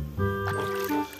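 Water poured over a toy truck to rinse it, a short splashing gush with a brief sustained tone, close and fairly loud for just over a second.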